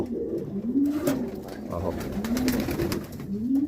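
Pigeons raised for meat coo repeatedly in a loft, their low rolling calls steady and close throughout, with a voice briefly speaking over them.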